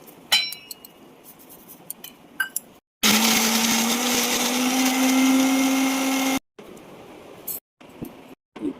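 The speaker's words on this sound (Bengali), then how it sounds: "ঠান্ডা হয়ে গেলে মিক্সিতে পেস্ট করে নেব।" A mixer grinder purees fried water spinach into a paste, roaring in one loud, steady burst of about three and a half seconds, framed by quieter kitchen clinks and rustles.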